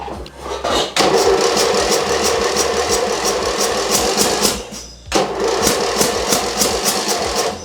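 An engine cranks in a fast, rhythmic chug for several seconds, pauses, then cranks again without catching, loud and close.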